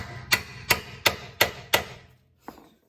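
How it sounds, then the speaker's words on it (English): A steel chisel driven into the slot at a front suspension ball joint of a 2012 Hyundai Tucson: five sharp, evenly spaced metallic hammer taps close by, then a pause and one lighter tap. "we're going to go back with the chisel here, chisel that I used earlier, and put it in that little slot, tap it in a little bit"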